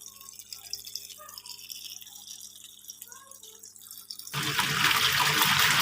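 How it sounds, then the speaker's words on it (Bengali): A Singer 7.5 kg washing machine starts filling with water: after a quiet stretch of faint hum and small drips, a loud rushing gush of water suddenly bursts in and keeps pouring steadily. "স্টার্ট করার পর দেখেন ভিতরে পানি আসছে।"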